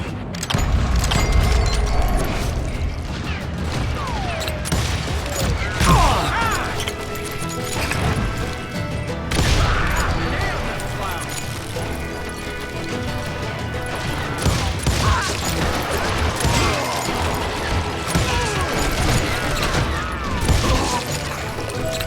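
Gunfire crackles in Call of Juarez Gunslinger during a shootout around a house, with repeated loud shots, crashes and impacts in irregular bursts over a busy, sustained game soundscape.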